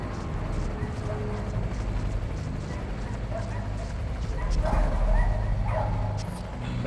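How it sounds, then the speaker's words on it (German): Dogs yapping at night in the video game Ghost Recon Advanced Warfighter, faint scattered barks far off over a dense rumbling ambient bed, with a voice talking briefly. "Die Köter. Die kläffen die ganze Nacht."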